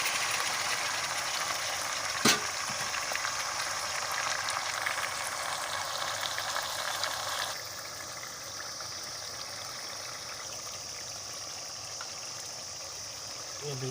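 Meat dropped into a pot of browned onions and crushed garlic, a steady broadband sizzle and bubbling hiss that runs continuously, louder in the first half and then easing slightly, with a sharp clatter near the start.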